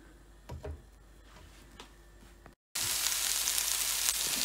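Beaten egg cooking like an omelette in a pan, a loud steady sizzle filling the second half after a brief pause, with faint clinks and taps before it.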